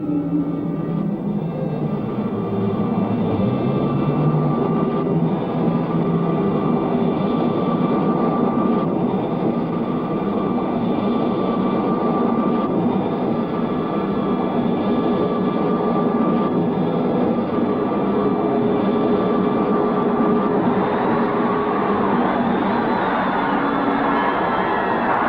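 A spaceship enters a planet's atmosphere and lands, a broad steady roar like a jet engine that rumbles continuously and swells slightly toward the end.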